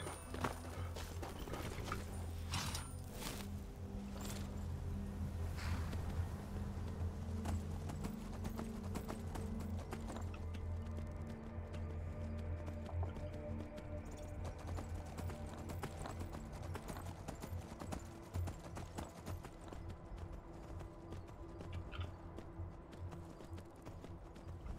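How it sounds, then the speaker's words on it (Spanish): Horse hooves clip-clop in the Skyrim video game, a steady stream of rhythmic hoof beats under game ambience, busier at first then settling into an even walking pattern. "Me he comprado un caballo."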